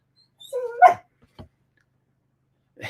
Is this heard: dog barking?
yes